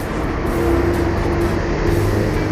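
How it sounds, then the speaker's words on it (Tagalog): Steady low rumble of passing road traffic heard from a park in Tagaytay City, continuous and moderately close with a faint hum on top and no speech. "medyo may mga sasakyan na marinig"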